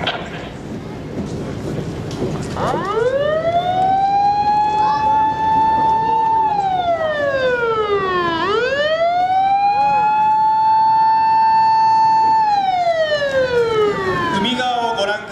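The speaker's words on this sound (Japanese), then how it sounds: "さまざまな消防車が出動してきました" Fire engine sirens wail at a Kitakyushu fire brigade New Year rescue demonstration, a loud rising-and-falling mechanical siren that climbs, holds, drops and climbs again over steady background noise.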